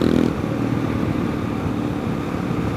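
A 2023 BMW GS 1200 motorcycle is ridden, its engine a steady low rumble under heavy wind noise, with no gear changes or revving heard.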